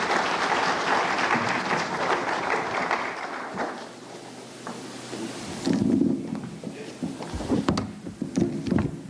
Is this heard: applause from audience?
yes